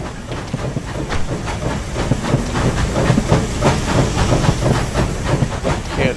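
Train rolling past close by on the tracks in a farming game, a steady loud rush with rhythmic clickety-clack of wheels over rail joints throughout, alone without talk.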